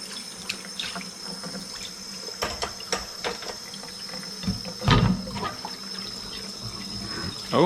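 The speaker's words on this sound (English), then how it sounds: "Now I'll turn my sink over here, turn it on, just a nice, warm, gentle stream." Warm water runs in a gentle stream from a kitchen sink tap during dishwashing, a steady wash of flow with occasional clinks and clatter of dishes, close by.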